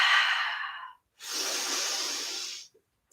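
A close breath during yoga: a short airy inhale, a brief pause, then a long steady breathy exhale lasting over a second, ending in silence.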